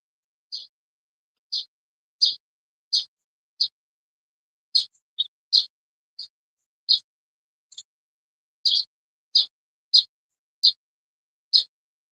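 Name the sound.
birds singing outdoors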